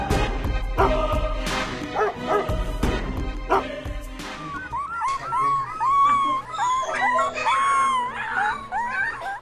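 Young puppies yip and whimper in a rising chorus of high-pitched cries, preceded by a few sharper barks and busy background sounds; several pups overlap close by and fairly loud.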